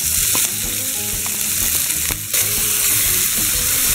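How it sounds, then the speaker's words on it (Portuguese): Chopped onion frying in rendered bacon fat for a butter-bean farofa, giving a loud, dense, continuous sizzle up close with faint stirring knocks and a brief dip partway through. "Saiu bastante a gordurinha do bacon, a gente vai de cebola picadinha"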